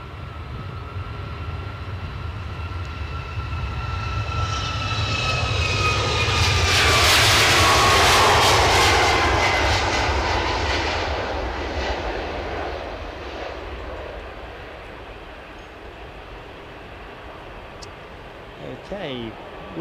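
A plane departing Edinburgh airport builds to a loud engine roar that peaks midway and slowly fades into the distance, with someone talking faintly underneath.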